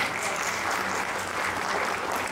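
Audience applause during a third-anniversary company speech, a steady dense clapping that fills the room without a break, close and even in loudness throughout.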